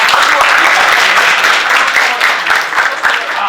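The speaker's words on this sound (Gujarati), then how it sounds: "તો એકવાર એમને જોરદાર તાળીઓથી આપણે વધાવીએ." A crowd at a community gathering claps loudly and continuously to honour a 90-year-old woman on her birthday, a dense, close wash of applause that holds steady throughout.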